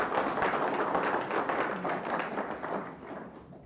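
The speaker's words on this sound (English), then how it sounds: "So I'd like to give them a little round of applause." An audience at an annual beautification awards ceremony gives a short round of applause for the staff. Many hands clap in a close, steady burst that gradually thins and fades out.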